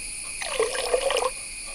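Moina live feed poured into a container of water, a soft trickling splash lasting about a second, close and quiet with no talk over it.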